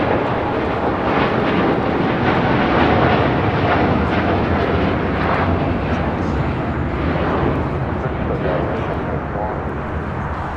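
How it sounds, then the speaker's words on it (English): A United Airlines Boeing 787-9 Dreamliner takes off from LAX bound for Hong Kong, a loud broadband jet roar filling the scene with rough, crackling thrust that fades slightly toward the end, with talking over it. "This is United Airlines 801 taking off to Hong Kong on a 787-9 Dreamliner."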